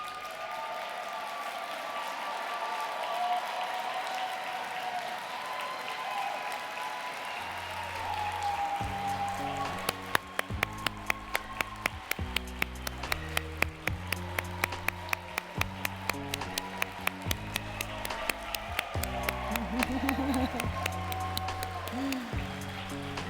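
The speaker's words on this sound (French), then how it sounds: "On va vous applaudir une dernière fois." Audience applause for newly honored fellows and laureates at an evening ceremony. It starts as a low murmur and builds into sustained clapping, joined partway through by music with a steady beat.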